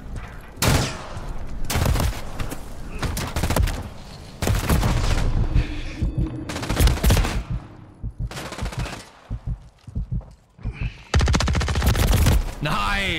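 Bursts of rapid automatic gunfire from two guns at once in a first-person shooter video game, loud clustered volleys separated by short pauses, with no talk over them.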